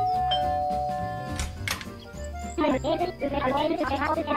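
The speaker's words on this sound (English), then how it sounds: "arrives at the next cabin and rings the doorbell" Doorbell chimes at a cabin in an animated scene, a short ding-dong followed by cartoonish chirps and music, with a narrator talking over it.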